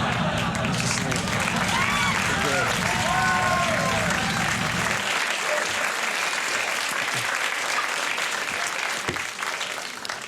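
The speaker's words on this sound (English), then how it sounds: "It's a nice crowd that would applaud that special effect." Applause and cheering from a large stadium crowd of Bolivian soccer fans, dense and sustained for the whole stretch, loud and close at first and thinning a little after the midpoint.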